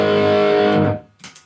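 A single overdriven electric guitar chord through a Marshall amp and Boss SD-1 overdrive pedal rings out thick and gritty, sustaining for about a second before cutting off with a faint scrape.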